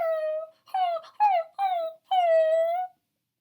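A dog whines at a back door at night, five drawn-out, high, tonal whimpers with short gaps between them, close and clear in otherwise silent surroundings.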